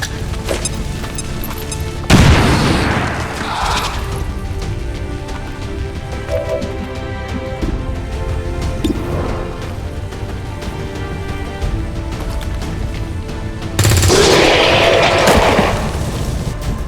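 Gunfire and explosions from the XCOM 2 video game: two loud booming blasts, one early and one near the end, with a steady rumble of combat noise between them.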